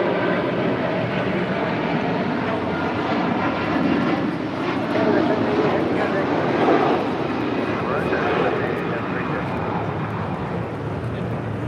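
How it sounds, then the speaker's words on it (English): An Air Canada Airbus A330-300 departs LAX for Toronto with a continuous, heavy jet roar holding near-steady throughout, peaking slightly midway, while people talk softly in the background. "788 departing to Toronto on an A330-300"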